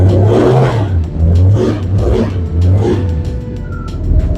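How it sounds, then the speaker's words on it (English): A 1961 Studebaker Lark engine revs up and down in several repeated bursts, a close, deep rumble rising and falling in pitch with each press, engine noise louder than the exhaust. "I hear more noise from the engine, I think, than I do the exhaust."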